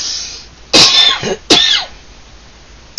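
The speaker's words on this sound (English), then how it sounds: "This cough is getting so bad." Two harsh, close coughs in quick succession, each a sharp burst tapering off, followed by quiet.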